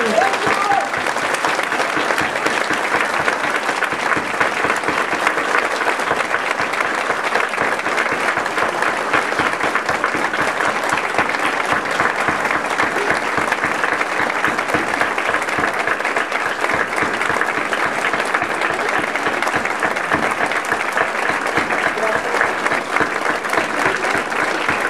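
A church congregation rises for a standing ovation at a sponsors' day gathering, with thick, continuous applause from a large crowd lasting the full twenty-five seconds and voices and cheers mixed into the clapping.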